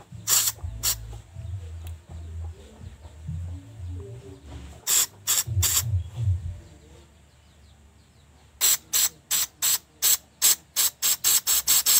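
Short bursts of aerosol spray aimed into a Honda Megapro motorcycle engine part, a few spaced hisses and then a rapid run of about a dozen quick sprays, close and fairly loud.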